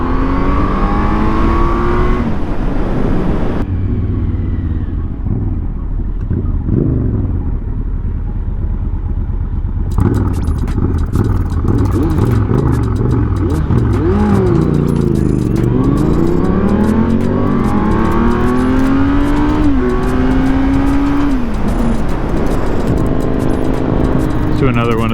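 A 2023 Kawasaki Z900 motorcycle accelerates hard through its gears, the engine rising in pitch and dropping at each shift, loud and close, with a voice counting or talking over the engine.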